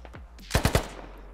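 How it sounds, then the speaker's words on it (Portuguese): Three sharp, loud gunshots crack in quick succession in a multiplayer military shooter game, preceded by a few softer distant pops, with low background hum and no talking. "Tem mais gente dando tiro pra cá."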